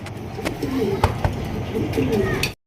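Beauty and Siraji pigeon pairs at a pigeon farm coo in a low, continuous murmur at close range, mixed with voices and handling noise.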